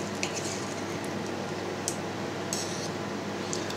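Knife slicing through sous vide cooked meat on a board, soft squishy cutting with faint scraping and a few light clinks of cutlery, steady and close, no talk.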